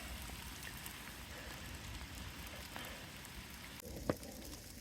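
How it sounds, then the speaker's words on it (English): Hail falls on a Colorado Trail hiking route, a faint, steady pattering hiss with one brief sharper tap near the end. "Well, it's hailing."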